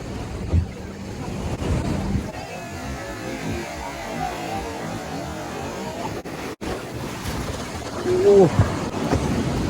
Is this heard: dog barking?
no